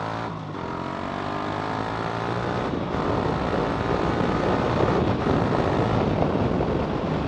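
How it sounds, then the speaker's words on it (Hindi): Loud exhaust of a modified Yamaha R15 V3 motorcycle, a sustained raspy engine roar that holds steady and grows slightly louder, with no talk over it. "इसका जो एग्जॉस्ट नोट है वो आपके कान बिल्कुल एकदम बजा देता है, बिकॉज काफ़ी ज़्यादा लाउड है"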